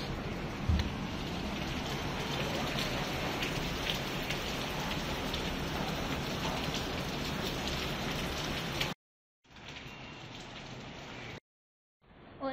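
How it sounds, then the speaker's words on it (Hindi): Steady heavy rain pours outside, a dense continuous hiss of drops; it cuts out abruptly twice near the end. "और बाहर हो रही है बारिश"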